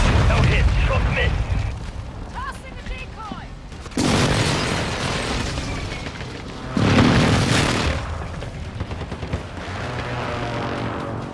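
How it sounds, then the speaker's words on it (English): Heavy booms from an airstrike in a military shooter game hit in two loud bursts, each a broad roaring blast that rumbles and fades over a couple of seconds, with game noise and a voice around them. "Friendly airstrike in the AO."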